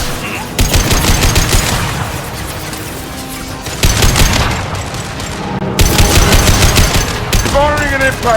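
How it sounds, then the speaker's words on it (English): Loud, rapid bursts of automatic gunfire in a Mass Effect 2 firefight come in long sustained volleys with booming impacts, broken by short pauses. A voice speaks briefly near the end. "Firing an impact shot, right between the eyes."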